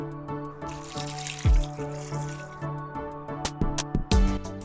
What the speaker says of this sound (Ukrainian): Вливаємо літру води.